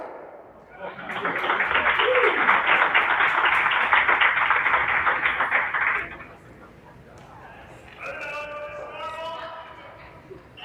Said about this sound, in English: Crowd reacted to a shot going on in the men's semifinal on sheet C.